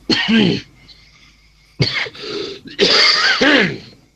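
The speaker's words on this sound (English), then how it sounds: "just cough up my lungs" A person coughs in harsh, separate fits: one short burst, then a pause, then a louder cluster of several rough coughs and throat clears, close and alone.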